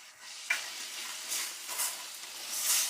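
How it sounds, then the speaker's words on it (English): Pork in miso sauce sizzling in a pan while being stirred, a soft crackling fry with gentle scraping swells and brief clinks, close and alone. "And let it fry here for about a minute and a half, until all the flavor is absorbed by the meat."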